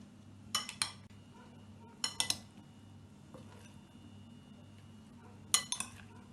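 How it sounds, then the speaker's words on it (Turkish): Bread cubes stirred by spoon into an egg and milk mixture in a bowl, giving a few scattered, quiet clinks of utensil against the dish with soft sounds between. "Doğramış olduğum ekmeklerimi yumurtalı sütlü karışımın içerisine aldım. Karıştırıyorum."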